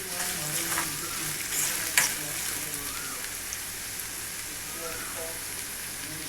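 Onions frying in a pan for soybean bhurji: a continuous crackling sizzle with spatula stirring and a sharp clink or two, close by, over a faint background hum.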